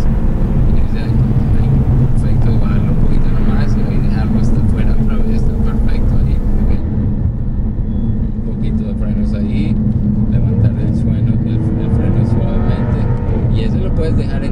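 2015 Jaguar F-Type coupe engine droning steadily while driving at speed on the Willow Springs track, loud and continuous with wind and road roar, someone talking over it throughout.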